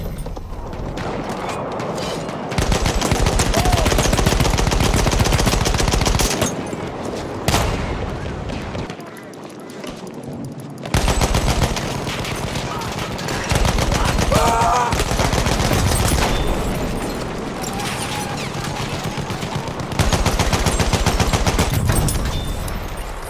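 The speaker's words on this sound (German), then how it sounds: "Das ist ein feindlicher Schuss," Enemy gunfire in a war video game, dense rapid bursts of automatic shots and heavy booms hammering loudly in long stretches with brief lulls between them.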